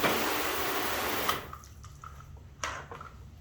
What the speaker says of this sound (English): Rinse it off a little better over here.